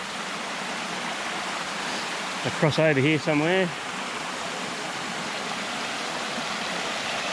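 Creek water flowing steadily in a bush creek bed, a constant close rushing hiss throughout, with someone briefly speaking over it midway.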